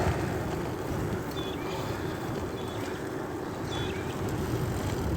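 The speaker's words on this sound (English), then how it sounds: "Oh, we're getting blasted by wind." Strong wind buffets a microphone while riding, a constant heavy low rumble with no break, loud and close.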